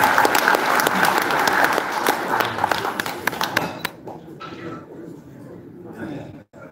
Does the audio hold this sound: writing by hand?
no